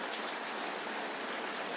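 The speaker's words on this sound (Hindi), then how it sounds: "अभी बारिश हो रहा है बहुत तेज़, तो उसका आवाज़ रिकॉर्ड हो रहा है शायद" Heavy rain pours down in a steady, dense hiss that continues without a break, with no talking over it.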